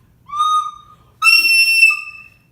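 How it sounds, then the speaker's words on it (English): A recorder sounds two clear, high sustained notes, the second louder and slightly bending, close and alone with no talk. "So here's a recorder for a good example."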